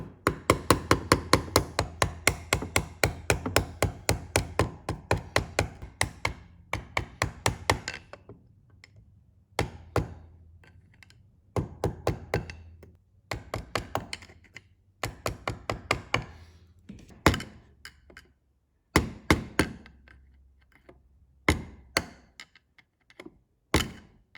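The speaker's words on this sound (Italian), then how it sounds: "Prendiamo un cacciavite piatto, martellino e piano piano la addirizziamo" A small hammer taps a flat screwdriver to straighten a metal clip while changing the tyres on a Piaggio Zip 50 cc scooter. Sharp, close metallic knocks come in fast, dense runs at first, then in sparser, irregular clusters with pauses.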